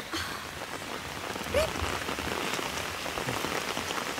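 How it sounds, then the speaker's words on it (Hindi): Steady rain falls and patters on surfaces nearby, a dense even hiss with scattered drop hits, with no talking. "I just love the rain."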